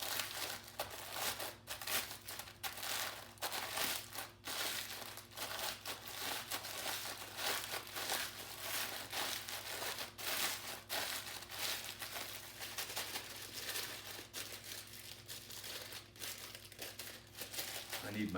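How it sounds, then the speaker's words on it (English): Ritz crackers crushed inside a closed bag while making a crack chicken casserole, giving a steady, close crinkling and crunching of plastic and crumbling crackers throughout, with a low hum beneath. "So I told you we could crush these right in the bag. This is the Ritz crackers."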